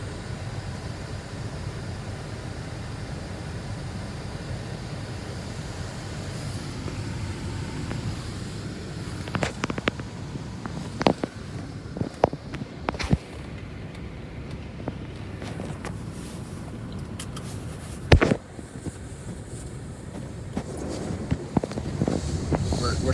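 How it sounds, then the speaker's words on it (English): A Ryko Soft Gloss MAXX 5 automatic car wash at a Fishkill, NY wash sprays Tri-Foam, giving a steady rushing hiss broken by scattered clicks and a few sharp thumps. "Let the wash begin. We're starting up with Tri-Foam."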